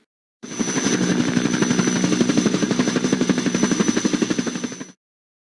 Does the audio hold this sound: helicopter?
yes